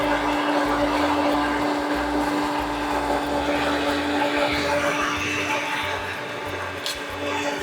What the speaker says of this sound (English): The peppers and onions go right into the blender along with that rich stock and cream mixture.